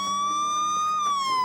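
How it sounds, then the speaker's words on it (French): A mobile phone blasts a loud, continuous electronic siren alarm, a steady piercing tone with a slow rising and falling sweep and strong harmonics, sounding close and alone with no talking. "on peut aussi faire hurler le téléphone, donc on met en place une sirène"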